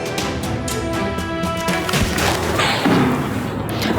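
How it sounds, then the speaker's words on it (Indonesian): Loud bursts of rapid Israeli gunfire in a residential area of southern Lebanon crackle and echo in quick succession, with heavier booms mixed in, fairly close and harsh. "terdengar suara rentetan tembakan Zionis Israel di permukiman warga"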